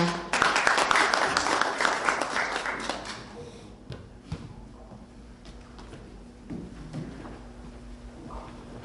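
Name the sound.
audience applause welcoming a speaker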